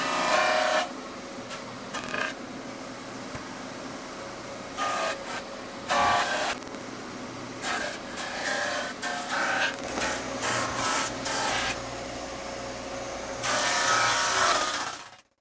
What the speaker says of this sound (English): all I had was this little drum sander, so I sanded away with that for a couple of hours.